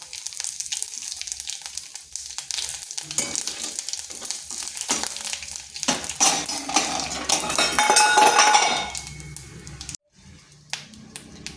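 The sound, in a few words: whole cumin, dried chilli and bay leaf sizzling in hot oil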